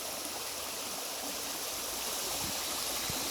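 A creek pours steadily over riprap stones after heavy rain, a continuous close rushing and gurgling wash with no voices, holding an even level throughout.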